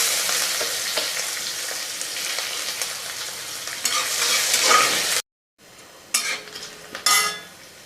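Onions sizzle in hot oil in a frying pan alongside bay leaf and whole cumin, stirred with a utensil that scrapes and clinks against the pan. The frying is close and steady, breaks off briefly, then returns with a few sharper stirring scrapes.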